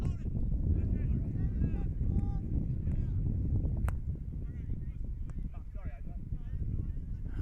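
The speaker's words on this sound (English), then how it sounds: "Once again, I apologise for the wind blowing here today." Strong wind buffets the microphone at an outdoor men's field hockey match, a constant low rumble and gusting roar under a commentator's voice throughout.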